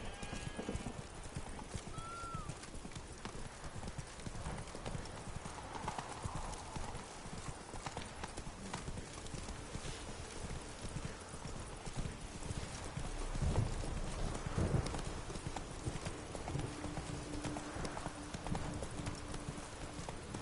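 Roach the horse galloping in The Witcher 3, steady rhythmic hoofbeats running continuously for the whole stretch, with occasional faint background voices and game ambience.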